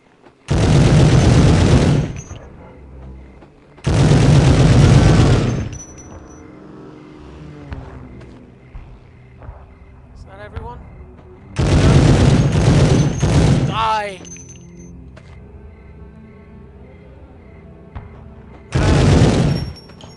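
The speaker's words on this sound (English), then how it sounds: "let's run right in front of a huge machine gun" Machine gun fire in the 1999 World War II shooter Medal of Honor: loud, dense bursts of rapid automatic shots come in four separate volleys, with quieter gaps between them that carry faint game sounds.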